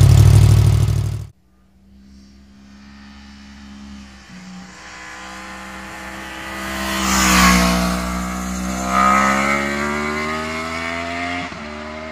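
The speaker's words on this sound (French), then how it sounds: "Autour maintenant de la Kawasaki z Miller d'exprimer ses vocalises" After a brief loud burst, a Kawasaki Z1000R motorcycle engine idles with a throaty hum, then revs up in a couple of swelling pulls before settling.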